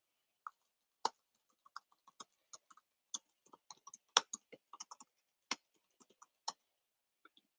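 Typing a message on a computer keyboard: sparse, irregular clicks and taps of individual keystrokes, close and quiet, with short pauses between bursts and no talking.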